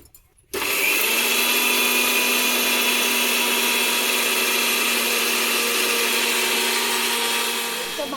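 A mixer grinder grinds dry-roasted cumin and coriander in a steady, loud whirring run of about eight seconds, starting abruptly after a short quiet moment and keeping an even high-pitched motor whine throughout.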